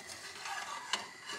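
A pancake is moved onto a second frying pan to finish cooking: a soft, faint sizzle runs throughout, broken once by a brief clack of utensil or pan.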